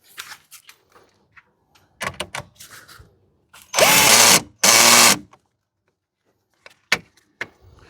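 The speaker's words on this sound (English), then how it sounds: "then you can tighten the screw." A power tool tightens the terminal screw on a car battery during a battery replacement, two loud, close bursts of whirring, each about a second long, separated by quieter clicks and handling knocks.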